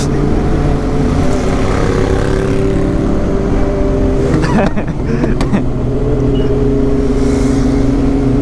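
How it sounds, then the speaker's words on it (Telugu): A loud S1000 motorcycle engine drones close by, a heavy continuous roar with a brief surge of revving midway before it settles back to a steady growl. "S1000 టూ మచ్ లౌడ్, అసలు అన్ని బైక్స్ కంటే లౌడెస్ట్ ఇదే."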